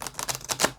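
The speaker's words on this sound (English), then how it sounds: "I'm just going to do one fan shuffle" Tarot cards fan shuffled close by, a quick run of crisp papery riffling clicks in several short bursts, with no talk.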